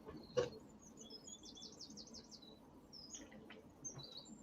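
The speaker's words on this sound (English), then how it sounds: "I love the birds chirping in the background over where Dojo is." Faint bird chirps and a short trill in the distance over a soft outdoor background hum, with no talking.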